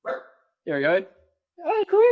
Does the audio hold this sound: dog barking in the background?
yes